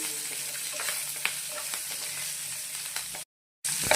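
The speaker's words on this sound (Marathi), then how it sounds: "हे देखील आपल्या शेंगदाण्याबरोबरच फ्राय करून घ्यायचं आहे" Green chilli pieces and peanuts frying in hot oil give a steady bright sizzle with small crackles and a stir, cut off by a brief silence near the end.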